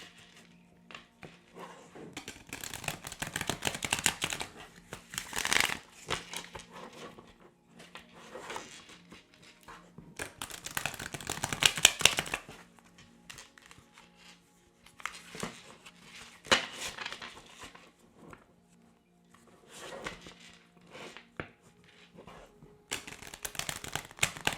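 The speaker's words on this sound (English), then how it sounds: "right, I need to shuffle these some more" Repeated bursts of tarot card shuffling, riffles and shuffles recurring through the clip at close range with brief quiet gaps, no talking.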